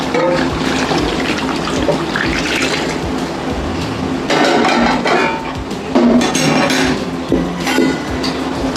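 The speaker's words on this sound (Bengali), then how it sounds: "গরম জলটা দিয়ে দিলাম" Hot water splashes and pours into a pot of chicken being cooked for a home meal, a turbulent watery rush with occasional clinks of metal, loud and close throughout.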